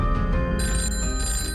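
A telephone rings in a bright, sustained electronic trill, loud and close, sounding alone without any voices.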